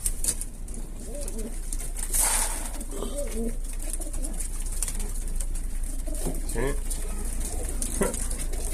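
Pigeons coo in low, soft phrases at a loft, repeating steadily across a constant background hum, with people talking nearby.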